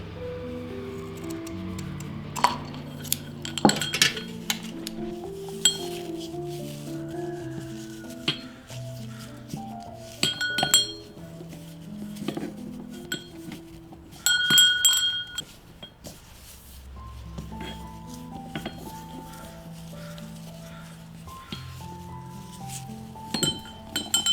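Decorative bells from Hobby Lobby, handled up close while a Christmas wreath is assembled, give off bright, irregular clinks and jingles with brief pauses between bursts of ringing; no one speaks.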